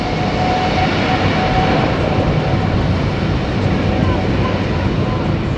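A Qatar Airways Boeing 777 departing Heathrow in the evening, a loud, steady broadband jet roar heard from a distance, with a voice talking faintly over it.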